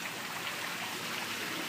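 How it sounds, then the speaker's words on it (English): Steady rain falling in Louisiana, a continuous even hiss of drops with no breaks, fairly close and uniform throughout, no voices. "See, we got a little bit of rain."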